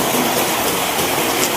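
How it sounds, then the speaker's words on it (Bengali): Heavy rain pours down steadily in Bhola Char Fasson, a dense, even hiss of falling water that fills the whole moment without pause or voices. "অনেক হিউজ পরিমাণ বৃষ্টি হতেছে ভোলা চরপেশন"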